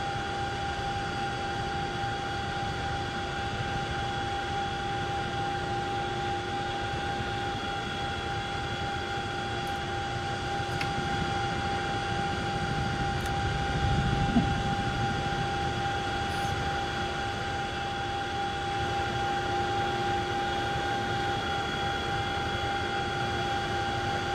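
A Chinook helicopter circling an airfield perimeter produces a constant droning engine whine with steady tones and a low rumble, holding nearly level throughout with a slight swell midway.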